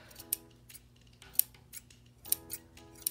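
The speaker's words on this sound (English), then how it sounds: "So I'm going to cut a piece of string about 20 inches long." Scissors cut embroidery floss with a few sharp, quiet snips spread over a few seconds. They are close, with near silence between the cuts.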